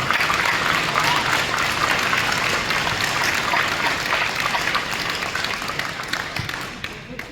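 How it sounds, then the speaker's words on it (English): An audience at a high school awards ceremony gives a big round of applause, thick continuous clapping that holds strong before gradually tapering off near the end. "Please give a big round of applause for the Executive Office of 2024-25"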